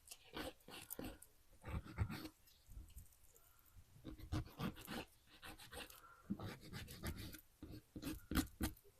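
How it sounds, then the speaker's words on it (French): Fingernails being filed with a nail file: close, irregular rasping strokes in short bursts with brief pauses, a soft scratchy texture throughout with no talking. "Et là, maintenant, je vais limer"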